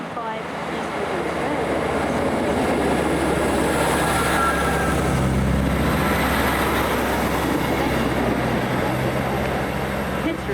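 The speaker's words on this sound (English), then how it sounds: "to arrive at platform 2 will be the 1625 East Midlands" An East Midlands Railway passenger train of five coaches draws into a station platform, a loud, steady rumble with rail squeal that holds for the whole stretch. A station announcement plays over it.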